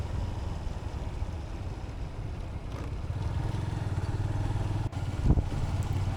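A new motorcycle is ridden along a road through open fields, its engine droning steadily and close, with a slight rise in revs toward the end.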